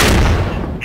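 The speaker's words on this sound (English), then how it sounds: "Artillery." A rocket artillery strike in the game Squad on the Yehorivka map: a loud, close, rumbling blast of overlapping booms filling the whole moment, with no speech.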